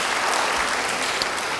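A church congregation claps together in a dense, sustained wash of applause that fills the room evenly from start to finish.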